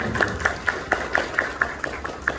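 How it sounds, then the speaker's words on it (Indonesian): An audience claps in a steady, rhythmic beat at an anniversary gathering after a guest is introduced. The evenly spaced claps are moderately loud over a busy background hum, and a faint ringing tone accompanies each beat. "Tepuk tangan."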